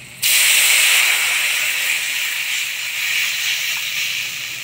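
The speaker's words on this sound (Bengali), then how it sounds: "এবার জল দিয়ে দেবো।" Water poured into a hot pan of cooking fish with mustard paste, bursting into a loud, sudden steam hiss that holds steady and broad for several seconds before gradually softening slightly.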